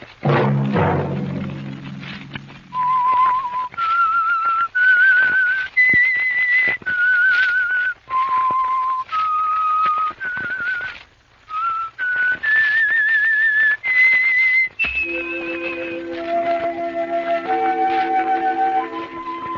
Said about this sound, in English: Let that whistle be your signal